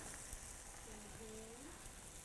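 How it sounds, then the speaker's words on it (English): Eggs and tortilla sizzle in a frying pan, a faint steady crackling hiss with a brief soft voice-like tone in the middle. "And watch this, the sizzle."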